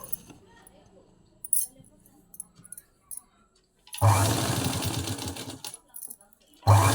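A sewing machine runs in a steady close burst as it stitches lace onto a patchwork blouse piece, stopping and then starting again briefly, with light handling clicks and quiet background sounds before it starts.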